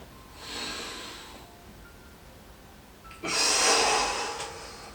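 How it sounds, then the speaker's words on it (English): A seated wheelchair yoga participant breathes deeply near the microphone, a soft airy inhale followed by a louder, longer rushing exhale. "breathing in, hands above our head, and then breathing out"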